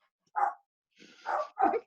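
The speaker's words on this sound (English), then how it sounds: "He's just barking at the door like a good dog." A dog barks at a door, giving three short separate barks, one single and then a quick pair, with silence between and no one speaking.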